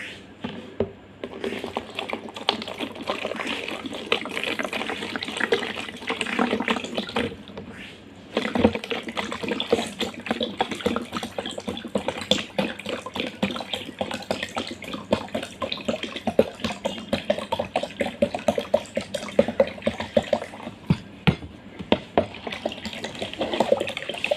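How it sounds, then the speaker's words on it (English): Water runs steadily into a jug in a kitchen for a cooking activity, a continuous splashing stream lasting many seconds, close and fairly loud, with a brief break partway through. "Firstly, take the jug and put the water."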